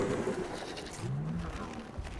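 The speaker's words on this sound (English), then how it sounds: "Oh, and there's the carrion birds." Carrion birds calling in the video game Evolve, a few soft cooing calls rising over a steady background ambience, moderately close and fairly quiet.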